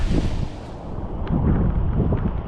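Strong wind roars against the microphone in heavy, gusting rumbles that rise and fall without a break, loud and close, with no voices.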